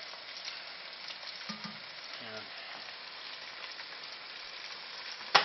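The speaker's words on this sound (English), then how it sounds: "for most of our noodles, we want to give them a little bit of a pan fry" Noodles pan-fry in a stir-fry pan with a steady, soft sizzle heard close and fairly quiet, a few brief utensil knocks in the middle and a sharper clink right at the end.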